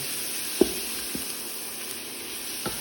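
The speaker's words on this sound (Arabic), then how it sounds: "هنقلب الكلام ده كده مع بعض لحد ما نحس ان البصلة نعمت معانا ولونها بقى وردي." Onions fry in oil with a little turmeric for a meat kabsa, producing a faint, quiet sizzle broken by a few soft taps of the stirring spoon.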